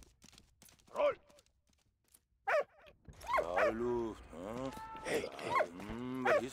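In the World War I game Valiant Hearts, a dog gives short barks near the start, then whimpering, yelping cries that run on for several seconds with noticeable loudness.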